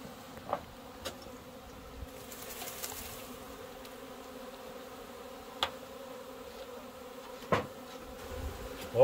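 A swarm of honeybees enters a hive outdoors, a continuous, even buzzing hum throughout, punctuated by a few faint clicks and taps.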